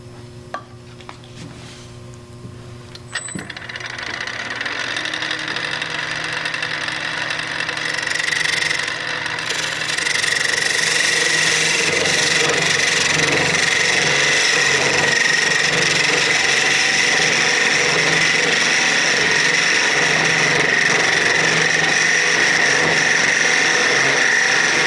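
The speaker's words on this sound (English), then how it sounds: "take my parting tool and start cutting straight in initially" A parting tool cuts straight into a wooden mallet blank spinning on a lathe, a steady, loud scraping hiss under the motor hum that builds after a few seconds and holds for the rest of the clip.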